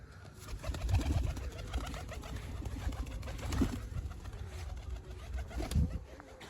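Pigeons cooing in soft, repeated low calls, with a few deeper coos standing out, close by over steady background noise and no talking.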